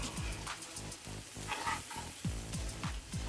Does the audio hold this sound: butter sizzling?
yes